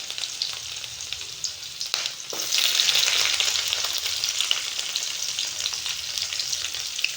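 Crushed garlic, partly whole, goes into hot oil for a Tamil-style fish curry. A steady, loud sizzle swells after a brief pause and keeps hissing evenly, with no voices.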